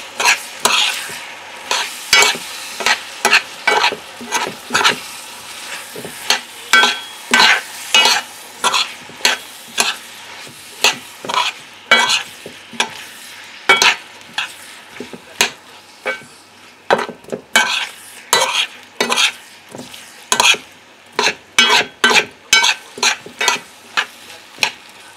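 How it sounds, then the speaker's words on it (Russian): Stewed fish with garlic being stirred in a pan: a long run of quick, sharp scraping strokes, some in rapid bursts, over a soft background sizzle. "Все это перемешиваем."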